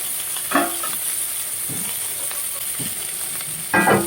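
Chopped tomato sautéing in a hot pan, a steady sizzle broken by a few louder stirring scrapes near the start and end, close and moderately loud with no talk.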